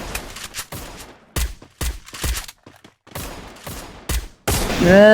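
Rapid bursts of video game gunfire ring out in short volleys with brief pauses between, ending in a loud sustained blast with a ringing tone.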